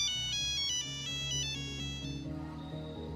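A voice imitates a mobile phone ringtone, a bright, electronic-sounding melody of repeated short tones that plays clearly for about three seconds and then drops into lower, softer notes.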